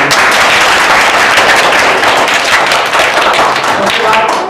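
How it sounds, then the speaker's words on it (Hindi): Audience clapping for the winning teams at a school English quiz, a dense steady patter of many hands filling the whole stretch at close range. "ताली बजा रहे हैं"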